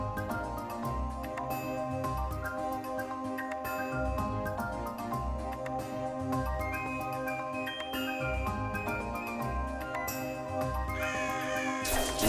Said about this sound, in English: These crows are still in the game.